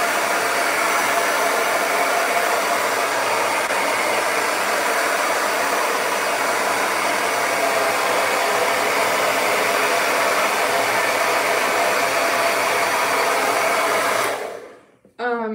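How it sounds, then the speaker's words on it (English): A hair dryer blows on dreadlock extensions at a steady, loud roar for most of the clip, then cuts off abruptly near the end. "Is that crazy loud for you guys? Is that terrible with the blow dryer?"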